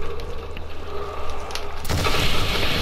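Upgraded fire staff firing in the Origins map of a Call of Duty zombies game, a booming burst that swells abruptly near the end over a steady rumbling game background.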